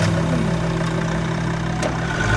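A vehicle engine runs at a steady, loud idle with a low droning hum, and a brief sharp sound cuts through near the end.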